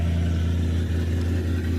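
A Ford F150 pickup, parked for 20 years, runs on a newly fitted carburetor, its engine holding an even, close idle with a smooth, steady hum and no clear surge in revs.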